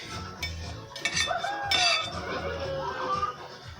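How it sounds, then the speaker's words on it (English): A knife scoops butter spread out of a tub and taps it onto a bowl or plate, giving a few soft scrapes and light clinks close by and fairly quiet. "Take the knife very carefully and easily scoop it onto the bowl or plate."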